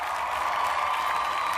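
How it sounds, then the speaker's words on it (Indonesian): A classroom group claps together in a short, dense burst of applause, steady and fairly close throughout. "Oke, tepuk tangan buat kita semua."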